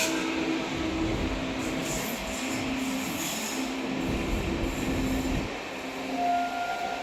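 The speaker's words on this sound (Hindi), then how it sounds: "ट्रेन बिल्कुल खाली चल रही है, गया अमृत भारत एक्सप्रेस" Amrit Bharat Express passing on an adjacent track while overtaking a near-empty special train, with a steady rolling rumble, rail noise and some wheel squeal that keep going for several seconds at fairly close range.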